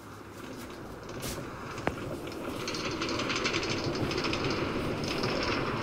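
New York subway Brooklyn-bound A Express train running underground, a steady loud roar of wheels and car rumble with faint clatter and one sharp click, building slightly and continuous throughout.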